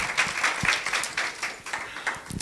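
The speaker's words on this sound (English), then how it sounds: "Let's give him a last round of applause." Scattered applause from a small audience at a cybersecurity conference, individual claps audible as loose uneven bursts, fairly close and moderate in level.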